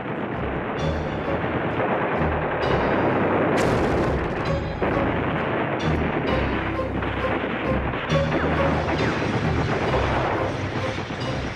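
Heavy gunfire and artillery of a World War II street battle in Arnhem, a continuous dense roar of bursts and booms with a few sharper cracks standing out, loud throughout and with no voices.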